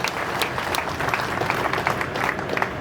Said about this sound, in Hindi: एक बार फिर जोरदार तालियों से हमारे बीच में महिलाओं